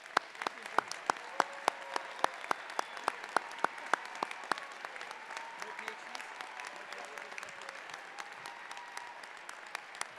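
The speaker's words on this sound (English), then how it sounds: "please rise for a round of applause." An audience at an engineering college convocation applauds in a large hall, a wide wash of clapping with sharp individual claps standing out and scattered voices underneath.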